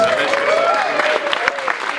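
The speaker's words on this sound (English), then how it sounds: "Give him a big round of applause." Steady applause from a crowd at a COP21 award presentation fills the space, with a voice speaking loudly over the clapping.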